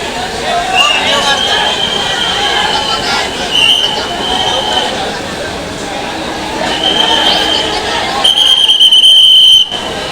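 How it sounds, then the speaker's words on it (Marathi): Steady rumble of a train departing Dadar for the Konkan, with wheel and rail noise, a high squeal tone rising in places, heard from inside the carriage. "मित्रांनो आता दादरवरून आपली कोकणकडनं ट्रेन निघाली"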